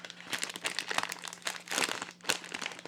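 Crinkly plastic packaging of a Nissin RAOH ramen noodle pack being cut open, a close, busy run of crackling and crunching rustles with a faint steady hum beneath.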